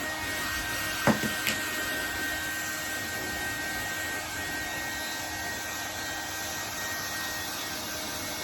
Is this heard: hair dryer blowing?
yes